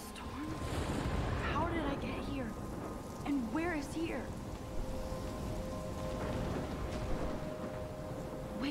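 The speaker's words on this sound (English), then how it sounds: "It's raining. It's water." Steady rain and rumbling thunder fill a stormy scene in the video game Life Is Strange, a continuous wash of sound with a player talking over it.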